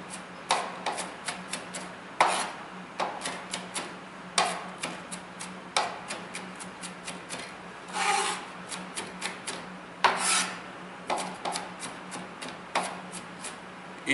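A kitchen knife chops through an onion on a board, giving irregular sharp taps and short scraping rubs spread across the stretch, fairly close and moderately loud, with no one speaking.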